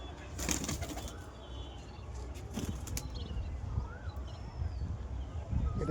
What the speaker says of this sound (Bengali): আমার বাড়ির কবুতর সব নিচে বসে আছে।